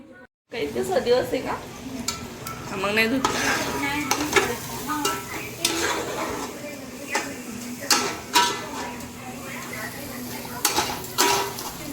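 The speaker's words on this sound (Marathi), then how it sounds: "चांगलं परतून घ्यायचं परत तेल सुटूपर्यंत" Vegetable masala with tomato fries in oil in a pan while a spoon stirs and scrapes, giving a steady sizzle with repeated clinks and scrapes against the metal.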